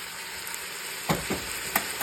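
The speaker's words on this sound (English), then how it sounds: "let it saute for just a minute or 2" Green pepper and minced garlic sauté in a pan with a continuous soft sizzle, broken by a few brief scrapes and clacks as the mixture is stirred.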